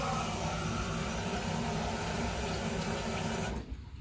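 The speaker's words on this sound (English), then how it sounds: "I'm gonna wash my hands." Water runs steadily from a tap into a sink while hands are washed during a clinical head-to-toe assessment, a continuous close rush that cuts off abruptly near the end.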